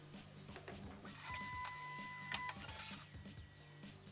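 A Bambu Lab P1S 3D printer loads filament, its motors whirring and ticking in quiet, steady mechanical bursts with faint tonal beeps and clicks close by, and no voices.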